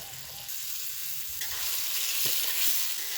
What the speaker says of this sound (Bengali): এবার গরম তেলে আলুটা দিয়ে দিব এইভাবে তেলে দিয়ে দিব